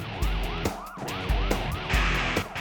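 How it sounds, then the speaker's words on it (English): A wailing police siren rises and falls in repeated sweeps, loud and close, over the rumble of a moving vehicle. "Police sirens and flashing lights are having little effect."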